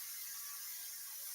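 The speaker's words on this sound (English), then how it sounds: "spray the pan," Cooking spray hisses onto a pan in one steady, continuous burst of bright, airy spray noise with no break and no talk.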